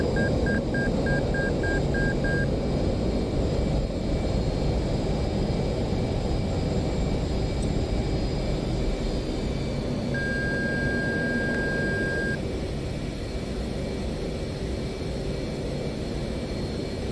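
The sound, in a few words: aircraft engine throttling up in the video game DCS World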